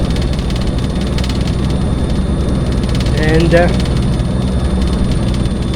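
A helicopter in a desktop flight simulator overflies a runway on a VOR-DME approach, its engine and rotor making a steady, dense droning hum, with a person talking over it.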